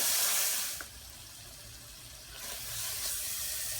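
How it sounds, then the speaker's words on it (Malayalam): Leftover beef cooking water poured into a pan while making Kerala beef fry, a soft steady watery hiss and splash, loudest at the start, easing, then swelling again near the end. "ഇപ്പോൾ ഞാൻ ബീഫിലുണ്ടായിരുന്ന ബാക്കി വന്ന വെള്ളമാണ് ഉപയോഗിക്കേണ്ടത് അതാണ് ഒഴിച്ചു കൊടുക്കുന്നത്"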